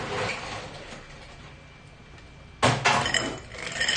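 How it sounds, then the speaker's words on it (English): Ice going into a cocktail mixing glass: a quiet lead-in, then a loud burst of glassy clinks and clatter as cubes drop in, continuing in a brief rattle. "fill our mixing glass with ice"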